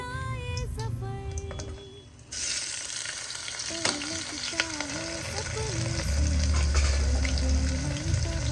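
Sliced onion drops into hot oil with crackling cumin for masala bhat, setting off a sudden loud sizzle after a brief quieter stretch, then sustained close frying with spoon scrapes and clinks against the pan.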